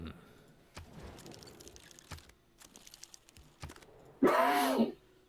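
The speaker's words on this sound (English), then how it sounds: "It was a cough." A single short cough during a casual game night with friends, heard amid quiet chat and keyboard clicks, followed by a louder breathy burst near the end.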